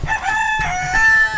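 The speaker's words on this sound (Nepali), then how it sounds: "ओ भाले कुकुरी कहाँ गर्दैछ" A rooster crows close by on a rainy day in a Nepali village, one long sustained harmonic call of about a second and a half heard on its own with no talk.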